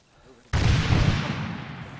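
A sudden heavy blast in the military shooter Arma 3 bursts in abruptly after a quiet moment, a loud booming crack that rolls off and decays slowly over the next second and a half.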